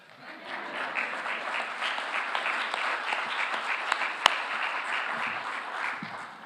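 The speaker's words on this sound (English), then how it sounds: "It's okay to applaud in church." A church congregation applauds at a memorial service, steady dense clapping sustained throughout with one sharp louder clap near the end.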